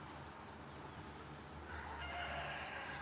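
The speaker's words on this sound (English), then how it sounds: "A rooster in the background." A rooster crows faintly in the distance, a soft, drawn-out call rising over quiet background noise.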